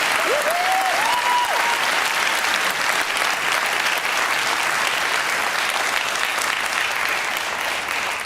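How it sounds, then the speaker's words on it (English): A conference audience at a Dreamforce 2022 session gives a loud, sustained round of applause. A short rising whistle cuts through near the start, then the packed clapping carries on evenly for several seconds. "Let's give them a big round of applause, please."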